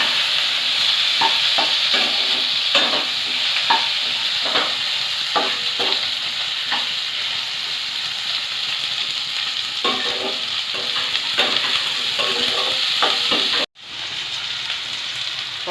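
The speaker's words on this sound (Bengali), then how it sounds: "আলুটা ভালো করে নেড়ে চেড়ে ভেজে নেব।" Potatoes fry in a pan with a loud, constant sizzle, broken by regular scraping strokes of a spatula as they are stirred, one short break near the end; no one speaks.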